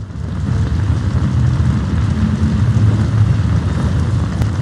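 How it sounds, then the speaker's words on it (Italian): A sandstorm in the Rub' al Khali desert in Uncharted 3 roars as a steady, loud wind rush with a deep rumbling low end, continuous and unbroken throughout. "La tempesta di sabbia non è brutto."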